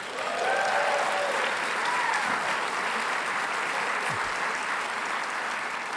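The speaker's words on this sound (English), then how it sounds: "I want to give a huge cheer to our women's soccer team" An audience at a university economic forum breaks into steady applause for the women's soccer team, a dense even patter of clapping filling the room, with a few faint cheers and voices mixed in.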